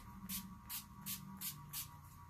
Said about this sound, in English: we're going to use my little Fix-It spray and see if I can get it to come on any better.